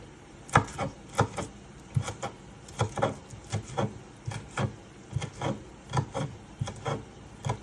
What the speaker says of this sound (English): Just cutting out the scallion.